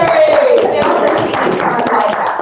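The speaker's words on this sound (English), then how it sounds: "I'm gonna give Terry a round of applause." Audience applauding a presenter named Terry at a talk on prehistoric Southwest engineering at Tonto National Monument, a dense steady clapping that stays loud and even throughout, with a voice or two mixed in.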